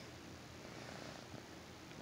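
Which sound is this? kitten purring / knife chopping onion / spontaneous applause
kitten purring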